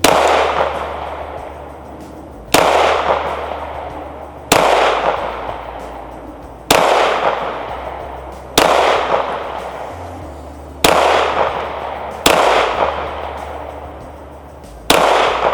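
Seven pistol shots fired from a handgun fitted with an Olight Osight S red dot and a compensator, each a loud, sharp crack with a short echo, spaced roughly two seconds apart.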